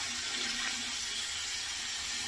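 Water running steadily from a tap into a sink while rinsing during a wet shave, a soft continuous close hiss with no talk.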